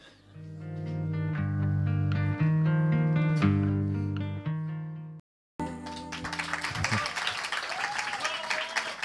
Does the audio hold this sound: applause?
yes